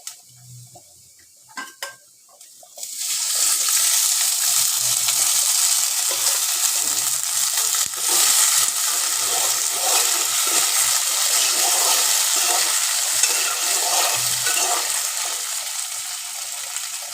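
Tomatoes for tomato chutney hit hot oil in a pan with a sudden loud sizzle that holds steady, broken by scraping stirs of a utensil against the pan.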